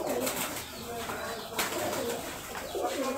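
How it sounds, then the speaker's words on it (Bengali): Giribaz pigeons from Rajshahi coo in their loft, soft repeated throaty calls with occasional wing rustles, close by and continuous, alongside faint background talk. "এই হচ্ছে বাদ বাকি কবুতরগুলো দেখাই"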